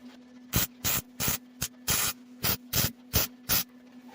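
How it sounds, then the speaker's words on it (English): Welding on the jack shaft of an Arctic Cat Ramrod, heard as about ten short, sharp hissing bursts spaced unevenly close to the microphone, with a steady low hum between them. "just weld this up"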